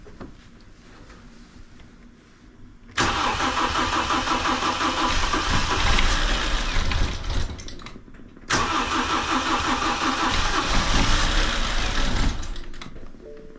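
A BMW car engine, recently repaired after seizing, cranks and catches with a loud, rough, clattering idle, cuts out briefly, then starts again and runs noisily close by, with no talk.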